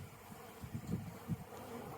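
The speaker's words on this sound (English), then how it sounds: "The bees aren't very happy." Honeybees buzz around an opened beehive as it is being closed up, a low, close drone that swells in a few brief pulses over steady hum, with no talking.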